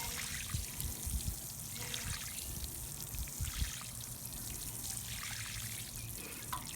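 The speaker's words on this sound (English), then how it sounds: "You just water it real good." Water steadily trickling and pouring onto soil around a freshly transplanted dahlia, with soft splashing that rises and falls in gentle waves, fairly quiet and close.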